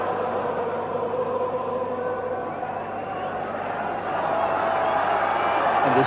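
Vast Welsh rugby crowd in a stadium breaking into song, a broad sustained roar of many voices with a melodic swell rising toward the end.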